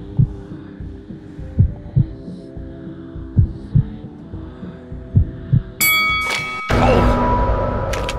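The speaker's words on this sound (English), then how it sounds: "The heartbeat heard really does make each duel so much more intense." A heartbeat sound effect during a duel in the VR video game Cold Iron thumps in steady double beats over a low hum, followed by a sudden loud burst of noise.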